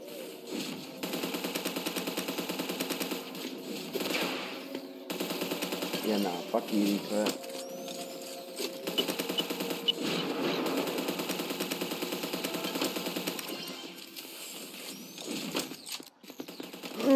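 Rapid gunfire from a shotgun in the browser shooter ev.io crackles in repeated bursts under loud game music, with voices in the background.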